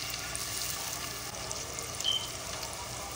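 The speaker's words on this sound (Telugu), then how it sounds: "ఇప్పుడు దీంట్లో ఉల్లిపాయ ముక్కలు వేస్తున్నాను" Onion pieces sizzle in oil inside a pressure cooker, a steady, soft, hissing fry at close range with no talking.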